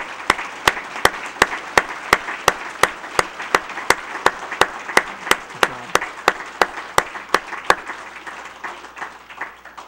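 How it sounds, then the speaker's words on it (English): Sustained audience applause at a police department's annual awards ceremony honoring officers, steady dense clapping with a few sharp louder claps standing out regularly, filling the room for several seconds and tapering slightly at the end. "to give another round of applause to our recipients tonight."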